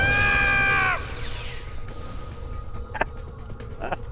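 A Klingon character's loud, harmonic scream in Star Trek Online, sustained for about a second and then cut off, followed by quieter game ambience with a few faint clicks.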